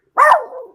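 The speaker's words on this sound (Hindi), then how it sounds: "ये कुत्ता किसका है?" A single short, loud bark from a big dog out on a walk with its owner, close by and alone against silence.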